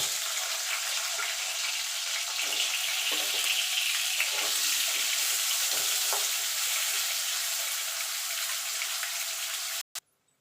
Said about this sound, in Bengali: এবার এই তেলে আমি আলুটা ভেজে নেব।